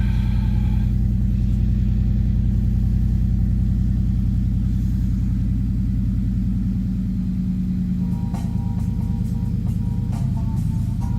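A 2017 Ford F-150 pickup engine idling just after starting, a steady low rumble close by; around the eighth second the tone shifts and clicks and tonal sounds from the truck's stereo begin over it.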